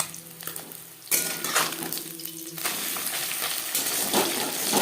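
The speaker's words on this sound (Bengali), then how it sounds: "দিয়ে দিলাম লবণ হলুদ মেখে রাখা পুঁটি মাছ" Salt-and-turmeric-coated puti fish drop into hot mustard oil, setting off a sudden crackling sizzle that spreads into a steady, busy frying hiss, with a few clinks of the pan at the start.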